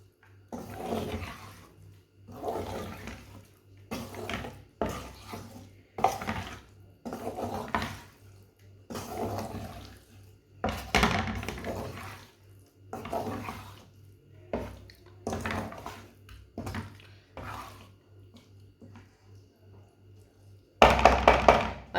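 Spoon or spatula scraping and clanking against a metal pot while stirring an egg dish with garam masala and fresh coriander, in steady bursts of knocks and scrapes with brief pauses, fairly close, no talking.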